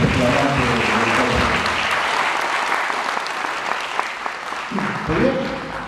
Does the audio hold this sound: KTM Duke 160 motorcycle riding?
no